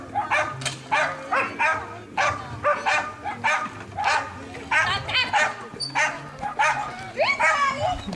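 Belgian shepherd dog barking in short, repeated bursts while being handled at an outdoor dog training or sporting session, the barks mixed with people talking nearby.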